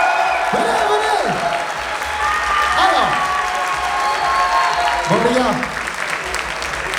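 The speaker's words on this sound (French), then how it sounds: "Applaudissements pour eux!" Crowd applause fills a live esports arena after a Valorant competition at a 2022 gaming event, steady clapping and cheers running throughout, with someone talking over the din.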